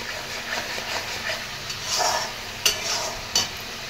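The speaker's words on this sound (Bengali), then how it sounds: "দেখুন মশলাটা পুরো ভাজা হয়ে গেছে, কড়া থেকে কেমন ছেড়ে যাচ্ছে মশলাটা" Steady sizzling of a thick spice paste frying in a kadai for rui fish curry, with scraping stirs and two sharper clacks near the end; no talking.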